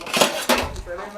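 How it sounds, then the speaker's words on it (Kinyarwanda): A metal cooking pot lid being handled, two sharp clanks of metal on metal close by, with a faint ringing tail, while people talk in the background. "nkuzanira umupfundikizo w'isafuriya"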